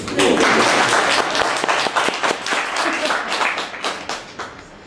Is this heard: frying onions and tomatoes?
no